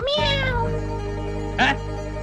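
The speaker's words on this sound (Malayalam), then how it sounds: "പൂച്ച ചാടിയതാ സാറേ" Two cat meows close by: a long rising-falling meow at the start, then a shorter one later over a steady low hum.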